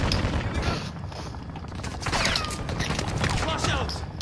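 Rapid gunfire from the player's weapon in a shooter video game, a dense run of sharp shots crackling close and loud, with a voice talking over part of it.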